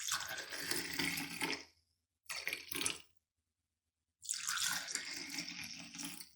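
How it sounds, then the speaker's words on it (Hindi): Chilled, boiled milk pours into a glass in three bursts, a longer splashing pour, a short one, then a final steady stream, each with a bright watery trickle and silent gaps between them. "हम गिलास में दूध डालेंगे।"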